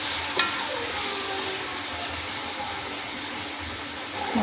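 Leafy greens frying in a pan, a steady soft sizzling hiss that continues throughout with a small clink near the start and no talking.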